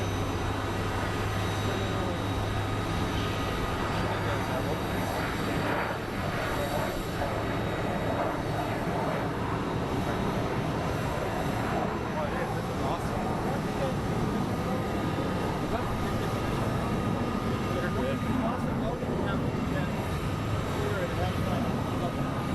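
Aircraft engines roar steadily at Phoenix Sky Harbor International Airport, a loud continuous jet rumble with background activity and occasional voices beneath it.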